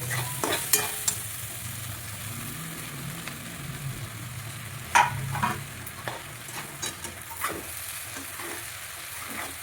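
Turmeric being stirred into leftover millet bhakri frying in a pan for a breakfast dish: steady sizzling with spoon scrapes and clinks throughout, close and clear, without speech.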